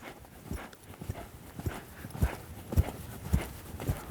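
A horse lopes along, its hooves striking in a steady, rhythmic clip-clop on soft ground, close by and with no talk over it.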